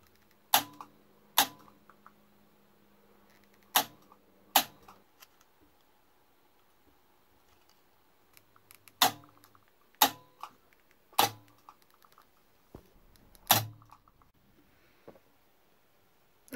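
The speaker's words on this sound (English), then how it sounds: "I'm just going to wind three loops of it on here and weld each one." Sharp, isolated electric spot-weld snaps fire one after another as 20 gauge titanium wire loops are welded for a vacuum tube getter. About ten crisp cracks are spread irregularly over a quiet background.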